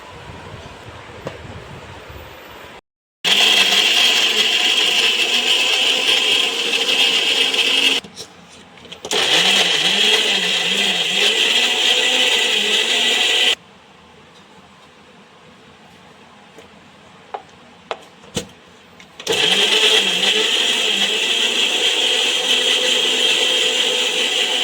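A mixie grinder grinds masala for mutton chops, roaring loudly and steadily in three long bursts separated by short pauses and a quieter stretch.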